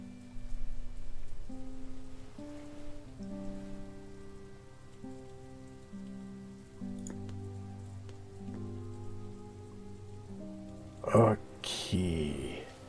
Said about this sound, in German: Hier regnet es.